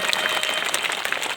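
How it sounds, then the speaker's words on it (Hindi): Crowd at a Hindu religious gathering, a Satchandi Mahayagya with Bhagwat Katha, clapping loudly and continuously in a dense, steady wash of applause. "सभी दानदाताओं के लिए जोर जोर से ताली बजाएंगे"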